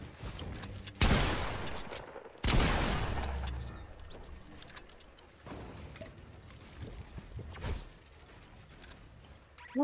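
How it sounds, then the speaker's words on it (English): Gunfire in the video game Fortnite erupts in loud bursts of rapid shots, two heavy volleys close together followed by scattered quieter shots and impacts in the distance. "Who is this guy constantly shooting at me?"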